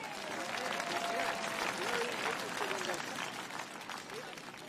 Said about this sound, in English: let's give a round of applause to Carnegie Hall Citywide